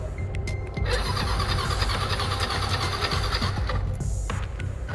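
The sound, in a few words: motorcycle engine failing to start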